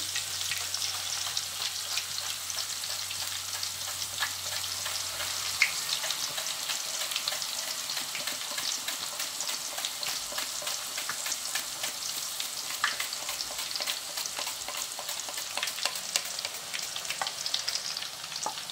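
Raw banana slices for banana chips fry in hot oil, a steady, dense crackling sizzle that runs the whole way through, with faint scrapes and stirring clicks and no voices.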